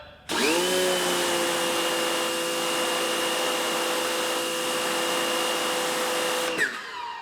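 Teande electric pressure washer with digital display, 3800 psi rated, running on its high setting: a loud steady motor whine starts abruptly, holds an even pitch for about six seconds, then cuts off.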